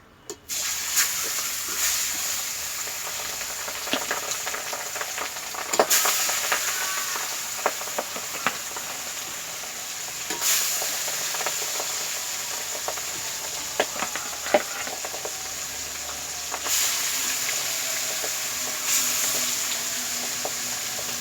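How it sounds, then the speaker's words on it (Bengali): Fish frying in oil crackles and sizzles steadily over a long stretch, with occasional sharp pops and spatters and no talking. "কাঁচা তেলটাই নি বিশাল ফোটাফুটি করবে মাছ"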